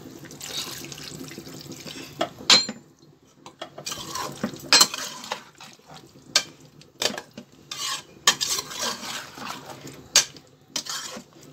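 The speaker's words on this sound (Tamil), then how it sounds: "இப்போ தண்ணி ஊற்றிடுறேன்." Water poured into a cooking pot while making a Tamil brinjal and drumstick gravy, heard as close splashing and trickling in uneven bursts, with occasional clinks of utensils against the pot.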